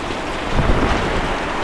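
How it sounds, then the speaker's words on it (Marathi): Rain pours steadily outside in a dense, continuous hiss, with a low rumble swelling briefly in the middle. "घरी आलेलो आणि हा पाऊस चालू झाला आता"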